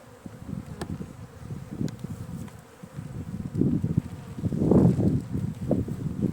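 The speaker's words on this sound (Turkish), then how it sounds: "Evet arı bana vurmaya başladı. Bu yağma arkadaşlar." Honey bees rob a hive and fight inside it, producing a dense, droning buzz close by that swells louder and more agitated toward the end.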